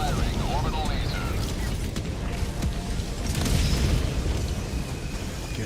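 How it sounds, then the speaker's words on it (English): An orbital laser fires in a video game, setting off a dense run of heavy booms, rumbling blasts and mechanical crashes that stay loud throughout. "Firing orbital laser"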